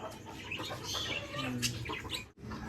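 Chickens clucking nearby in a coop, with short irregular clucks, a few chirps and some wing flapping, fairly quiet.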